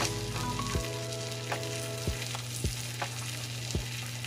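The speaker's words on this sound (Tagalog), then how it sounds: "lutuin lang muna natin yung ating sibuyas. At saka yung ating bawang" Onion and garlic frying in a pan for a salmon steak dish, a steady close sizzle broken by a few sharp scrapes of a utensil stirring, with a low hum underneath and no talking.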